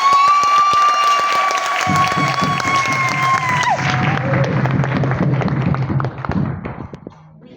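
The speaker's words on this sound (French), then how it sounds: "Je voudrais vous inviter à une salve d'acclamation nourrie d'un merci très croustillant" Applause and cheering in a chapel, a sustained crowd of clapping hands with whistled or sung tones at the start, steady for several seconds before dying away.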